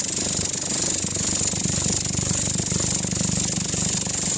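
A dense, steady roar with rapid rattling pulses underneath runs without a break, loud and close, from a flame burning hard in a muzzle flash simulator.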